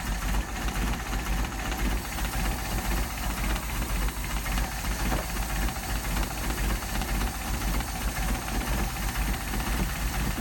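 A Solex-carbureted engine idles at a low, steady 400 RPM during tuning, a continuous rumbling throb with faint hiss, close and even for the whole stretch.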